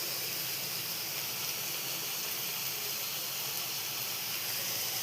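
Two large chopped onions sizzle in hot oil in a pan, giving a constant close hiss that never lets up, with no talking.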